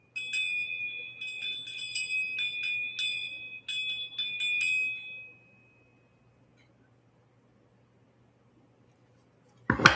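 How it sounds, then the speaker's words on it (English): Small bell rung repeatedly in quick bright strikes for about five seconds, each ring sustaining a clear high tone, then silence before a brief clatter at the end. "Also going to ring the bell."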